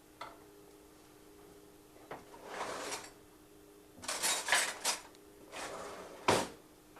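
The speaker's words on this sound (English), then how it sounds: "Stir those beans as I wait." Beans being stirred in a pot while cooking quesadilla appetizers, a faint, close series of scraping and clinking strokes of a utensil against the pot, spaced irregularly over a quiet kitchen background.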